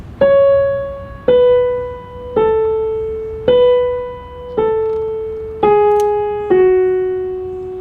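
Solo piano picking out a theme from La La Land, seven clear single notes struck about once a second, each ringing and decaying before the next, with no talking.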